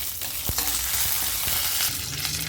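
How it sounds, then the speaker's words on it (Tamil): Mustard seeds, urad dal and fenugreek fry in hot oil for tempering, giving a dense, crackling sizzle with a few sharp pops, close and loud throughout the short stretch. "கடுகு, உளுந்தம்பருப்பு, வெந்தயம் தாளிச்சிக்கிறேன்"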